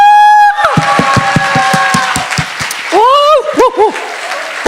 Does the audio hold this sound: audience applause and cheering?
yes